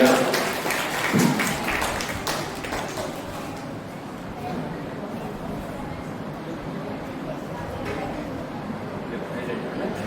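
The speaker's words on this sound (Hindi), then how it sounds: "मित्रों ये बच्चे के लिए ताली बजाकर इसको सम्मान करते हैं।" Audience at a Brahmakumaris summer camp clapping to honour a child, the applause strongest at the start and then thinning into a softer, more scattered patter.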